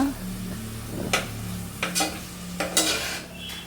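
Millet roasting in a pan, a low sizzle under repeated scraping strokes of a spoon against the metal, several distinct stirring sweeps spaced about a second apart, close by.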